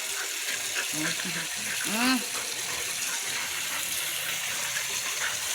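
Water pours steadily into a container, a continuous broadband gush running the whole time, with people talking over it and a rising whistle-like tone in the middle.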